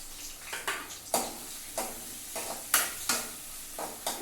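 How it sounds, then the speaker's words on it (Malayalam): Chopped onion sautéing in hot oil in a pan while being stirred, for a clam (kakka) meat fry, with a soft steady sizzle broken by repeated scraping stirs about every half second, close and fairly quiet. "ആദ്യമേ സവാള നമുക്കൊന്ന് വഴറ്റാം"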